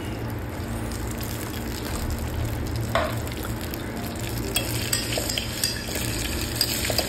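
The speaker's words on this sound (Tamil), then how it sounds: "ஆக்சுவலாக போட்டு இதை கொஞ்சமாக ஃப்ரை பண்ண வேண்டியது தான்" Garlic, ginger, green chili and curry leaves frying in a pan, a steady low sizzle with soft scraping and clinks of stirring throughout.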